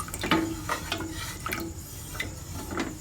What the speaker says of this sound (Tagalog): haluin po natin maigi nang matunaw yung cornstarch